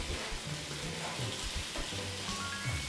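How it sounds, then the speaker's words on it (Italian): Fried battered vegetables sizzling on a hot griddle plate, a close, steady crackle and hiss running without a break for a few seconds. "come frigge tutto"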